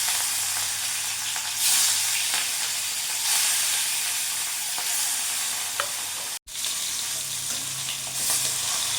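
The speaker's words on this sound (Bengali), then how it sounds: "তেলটা ভালোভাবে গরম হয়ে গেছে, এবার মাছগুলো আমি দিয়ে দেবো" Rui fish sizzles loudly in hot mustard oil, a thick, constant crackling hiss close by with occasional louder spits and a momentary break partway through.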